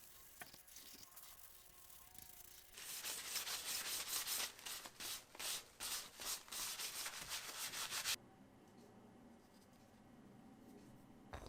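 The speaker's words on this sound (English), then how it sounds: "I'm just finishing it off with some Osmo oil" Osmo oil being rubbed by hand onto a wooden handle for a rubber brayer, a steady dry cloth-on-wood friction with a louder stretch of rhythmic back-and-forth strokes in the middle, close and alone.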